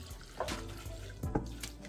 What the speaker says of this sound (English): drain this water, give it another fresh fill